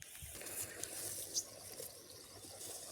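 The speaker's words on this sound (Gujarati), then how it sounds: "પાણી ચાલુ છે" Irrigation water runs steadily into a pearl millet field, a continuous soft trickling wash with one brief louder splash midway.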